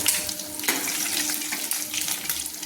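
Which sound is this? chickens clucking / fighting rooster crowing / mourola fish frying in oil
mourola fish frying in oil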